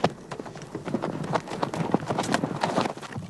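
Horses' hooves clop over a steep mountain trail in an irregular, continuous patter of close, sharp strikes against a rough outdoor background.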